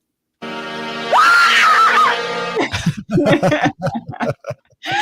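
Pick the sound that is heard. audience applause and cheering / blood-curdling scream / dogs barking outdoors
blood-curdling scream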